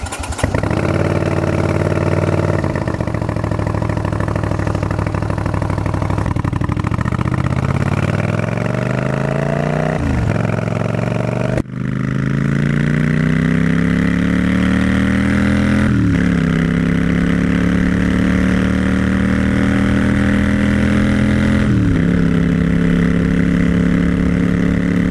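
An American muscle motorcycle engine idles loudly and close after being choked, its steady rumble shifting in pitch as the idle settles, with a brief dip near the middle and no voices.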